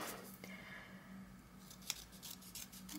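A quiet snip of scissors cuts open a paper envelope, with a light rustle and a single sharp click in a hushed room.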